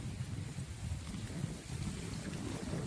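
Strong wind rushes across the microphone outdoors in a village setting, a steady low buffeting roar with gusty fluctuations and no other clear sounds.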